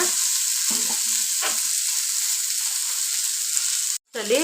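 Chicken sambar ingredients frying in a pan, a loud, continuous sizzle with occasional stirring scrapes, close by, briefly cut off near the end before resuming.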